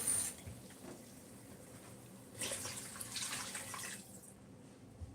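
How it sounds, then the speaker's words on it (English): Water is poured into a pot for a soup base, a soft quiet splash and trickle that swells midway for a couple of seconds before fading. "Let's do a little bit more water for the soup base."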